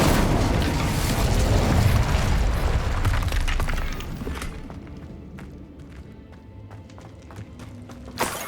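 Incendio fire spell effect in Hogwarts Legacy: a loud, rumbling whoosh of flame that bursts out and then fades, followed by quieter scattered ambient clicks and a small pop at the end.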